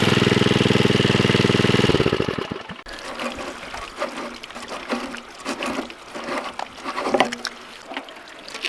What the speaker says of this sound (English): the petrol pump is just about to run out of fuel, so we're going to turn it off